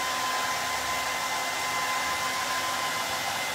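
A hair dryer blowing on custom-coloured paint, a steady loud close whooshing hum that runs unbroken throughout with no talk.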